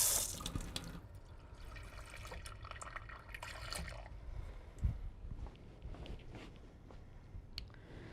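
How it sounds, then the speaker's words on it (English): Water is poured into a blender, about half a cup, giving a splashing, trickling pour that starts strongly and then settles into quieter liquid sloshing, with no talking. "I think we need to add about a half a cup of water."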